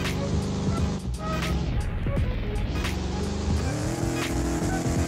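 A video game car in Liberty County revs and skids while stuck, its engine droning loudly with squealing tire slides and wavering pitch throughout.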